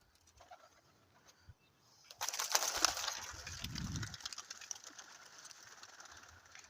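Pigeons, including young dyed birds, coo in a low soft burble, with wing flutters and rustling rising partway through against a faint background.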